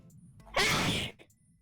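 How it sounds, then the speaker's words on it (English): A single sharp, explosive human sneeze, loud and close, lasting about half a second, with faint murmuring before and after it. "that was a sneeze."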